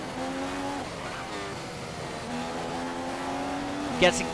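A race car in the video game F1 2015 at the British GP, its engine whining steadily in rising and falling pitch through gear changes as it accelerates, with a commentator talking over it and a brief sharp burst near the end.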